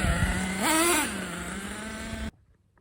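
A nitro RC car engine buzzing at idle, then briefly revving higher before settling back and cutting off abruptly, close and fairly loud.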